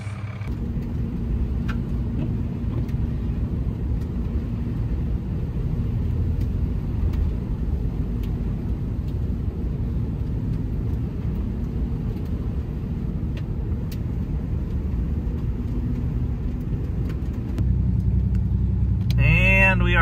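A beat-up pickup truck with 175,000 miles rumbles steadily through a blizzard on a snowy mountain road, a loud constant low drone from inside the cab, with a brief swept tone near the end.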